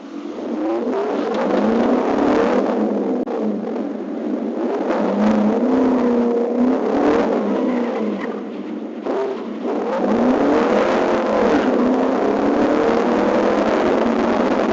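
A red Mustang's engine roars and revs hard during a police chase, rising and falling in pitch in several loud, sustained surges with no talk.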